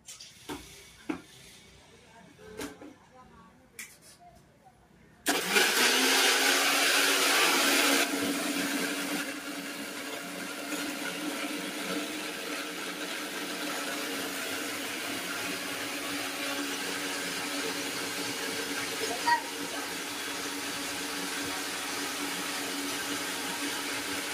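A Havells mixer grinder starts up after a few quiet knocks and runs loud and steady, a sustained whirring roar that eases slightly after the first few seconds and continues to the end.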